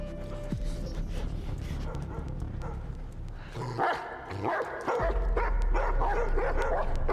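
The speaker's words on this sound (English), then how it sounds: "What are they barking at?" Dogs barking and yipping amid background commotion, with a short whimper; the barks come in irregular bursts at moderate distance.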